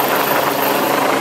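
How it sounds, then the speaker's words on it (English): A loud, steady turbine whine with broadband rushing roar, constant and close, from a helicopter's two turbine engines running overhead. "we've got two turbine engines spinning above your head"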